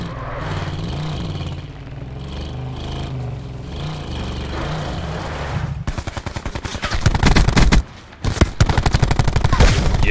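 Rapid hipfire gunfire in the Black Ops shooter game, dense automatic bursts crackling loudly in the second half after a stretch of engine-like rumble and game noise, with a brief gap before the firing resumes.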